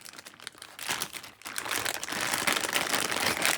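A plastic bag holding a speaker microphone is opened up close, with dense crinkling and rustling that starts light and grows steadily louder.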